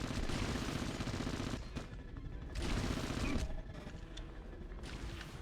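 Nano pistol fire in the PS2 game Red Faction rattles in loud, dense automatic bursts, broken by a couple of brief gaps, with constant game noise underneath.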